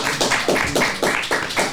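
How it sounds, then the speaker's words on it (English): A few people clapping in a small room, loud and close, in about five short bursts with brief gaps between them and no talk over it. "We can clap that up."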